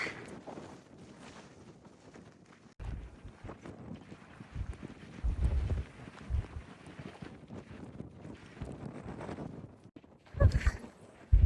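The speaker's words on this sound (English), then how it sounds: "It's very windy." Gusty wind on the Pacific Crest Trail buffets the microphone in low rumbling bursts, rising and falling over a quiet outdoor background.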